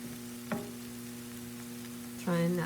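Eggs frying in a skillet with corned beef hash, cooked on medium, give a steady close sizzle over a low mains hum, with a brief scrape near the start and a louder burst of sizzling toward the end.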